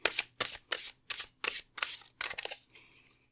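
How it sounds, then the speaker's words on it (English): Tarot cards being shuffled by hand: a quick run of about seven crisp riffling bursts in a steady rhythm, close and clear, ending in a softer trailing rustle. "That was not the best shuffle."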